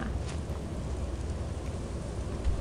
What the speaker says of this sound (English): if you hear anything, it's raining outside